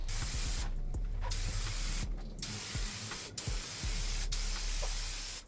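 Turbo spray paint hisses from an aerosol can onto a Honda Civic in several close, loud bursts with brief pauses between them, applied as a third coat.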